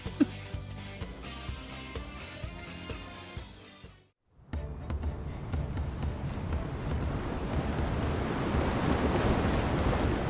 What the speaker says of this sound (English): We're on a boat. Going fast.